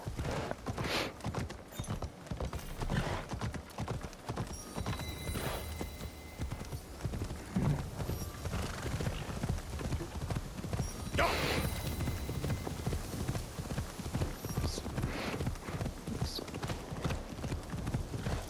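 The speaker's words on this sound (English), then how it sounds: "You are one fast horse!" A horse in Assassin's Creed Shadows gallops with rapid, close hoof clip-clops, a steady driving rhythm under a bed of in-game ambience, with a short whinny among the hoofbeats.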